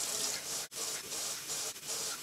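Tap water pours steadily into a cooking pot to fill it for shrimp étouffée, a close continuous rushing stream with two brief breaks in the flow.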